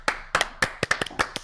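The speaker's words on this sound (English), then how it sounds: "give him a clap" A small group claps sparsely and unevenly, with about nine or ten distinct sharp hand claps spread across roughly a second and a half. No voices are heard in between.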